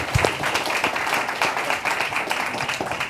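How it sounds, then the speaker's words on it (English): Applause from an audience at a YP Weekend 2025 event, a dense steady wash of many hands clapping close by for about three seconds, with no speech over it. "Can we clap it up for them, y'all"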